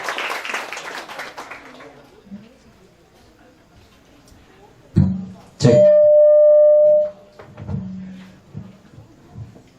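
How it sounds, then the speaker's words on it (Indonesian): Audience applause at a live talk-show gathering, a dense burst of clapping in the first two seconds that fades out, followed later by thumps and a sustained electronic tone. "tepuk tangan yang kan untuk Prigus dan juga Ade Pak."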